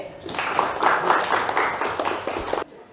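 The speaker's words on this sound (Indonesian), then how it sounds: "boleh tepuk tangan untuk JJ" Classroom of high school students clapping for a classmate named JJ after a presentation, dense overlapping hand claps held steadily for a couple of seconds before stopping abruptly.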